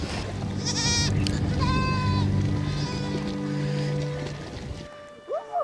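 A flock of sheep in Ladakh bleats repeatedly, several overlapping calls near and far, loud and continuous over a busy outdoor background, fading to quieter scattered sounds at the end.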